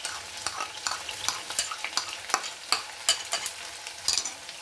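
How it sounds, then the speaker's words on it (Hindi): Ginger slices and spices fry in a pot with a soft, continuous sizzle, punctuated by frequent scraping taps of a spoon stirring them, close and quiet, with no voices. "2 मिनट के लिए सभी चीज़ों को हम अच्छे से भून लेंगे।"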